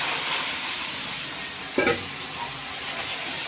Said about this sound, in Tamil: இப்போ இந்த கீரையை போடணும்